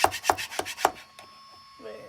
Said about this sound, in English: Then I'm gonna use this scraper.